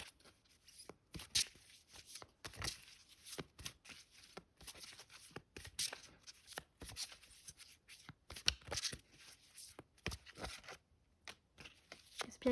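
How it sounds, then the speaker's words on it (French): Tarot cards being shuffled: a run of soft, quick riffling and slapping bursts in an irregular rhythm, close and fairly quiet, with no speech. "si j'avais à sortir les cartes"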